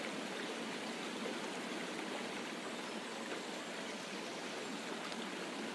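A waterfall roars in a steady, dense hiss of falling water, continuous and even from start to finish with no voices or other sounds.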